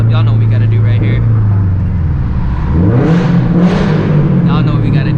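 A Toyota 86 / Scion FRS / Subaru BRZ sports car engine revs hard inside a tunnel, a loud close drone rising and falling with echoing reverberation, over continuous cabin noise.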